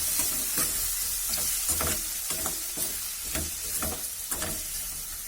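Raw plantain is sautéed and stirred in a pan. A spatula scrapes in an even rhythm of about a dozen strokes over a constant close sizzle, with no talking.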